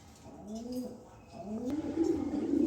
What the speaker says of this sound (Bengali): শুরুতেই এক পেয়ার রেসার কবুতর দিলাম